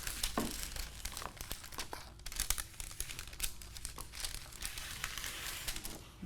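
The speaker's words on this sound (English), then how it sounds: "let me just cut that piece up." Canvas being cut with pinking shears while an oil painting is re-stretched, making steady crinkly snipping and rustling textures with occasional sharper tearing sounds, close and moderately quiet.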